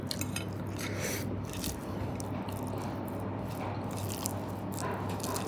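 Close, wet chewing and soft crunching of a lunch of pabda fish cooked with boiled taro (kochurmukhi), in steady mouthfuls with faint utensil scrapes and no talking.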